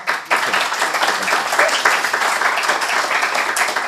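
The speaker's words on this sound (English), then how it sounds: "Yeah, a round of applause." A conference audience gives a round of applause, dense steady clapping filling the room for several seconds at an even loudness, with no speech over it.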